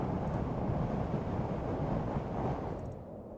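Wind blowing in the video game Scavengeneers, a steady low rushing roar that holds for a few seconds and then eases slightly at the end.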